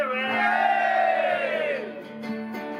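A crowd roars and cheers together in a sustained, swelling shout that gradually falls away, followed by scattered fainter calls.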